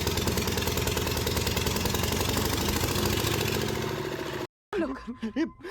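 A small engine runs steadily with a dense mechanical rattle for several seconds, then cuts off abruptly before a few short voice sounds.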